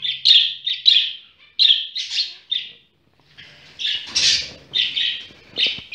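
Budgerigar chick begging its father for food, a run of loud, close, repeated raspy chirps and squawks with a brief pause midway.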